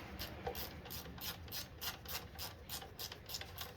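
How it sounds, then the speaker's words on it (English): A ratchet clicks in quick, regular bursts while a bolt is removed from the brake lever of a 2016 KTM 350 XCF-W motorcycle, the close metallic ticking repeating steadily over a faint background. "next I'm going to remove the bolt from the brake here"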